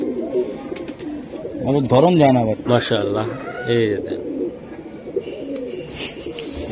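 Indian Giribaz pigeons, including silver Giribaz, coo in throaty rolling calls close by, while someone talks over and between them.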